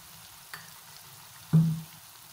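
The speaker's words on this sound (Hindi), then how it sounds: "इसको हम फ्राई कर लेंगे" Onion with ginger-garlic and tomato paste in a pan for fish curry, giving a faint steady sizzle, then a sharp louder hiss as something hits the hot oil.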